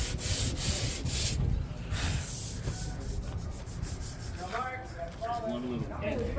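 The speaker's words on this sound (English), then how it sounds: "So I've got to fill this little bump in and then sand it back and polish it." Filler being hand-sanded on a Kevlar fairing, a close rhythmic rasping rub in repeated strokes, with a voice speaking briefly near the end.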